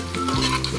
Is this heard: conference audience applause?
no